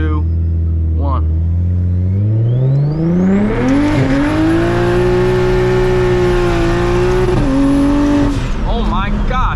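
A single turbo BMW 335is pulls away from a stop, its engine loud and close as it climbs steadily through the revs. The pitch drops at a gear change partway through, then the engine keeps pulling hard toward the end.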